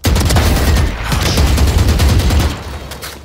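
Rapid gunfire in the video game Valorant, a loud sustained burst of shots lasting a few seconds before cutting off.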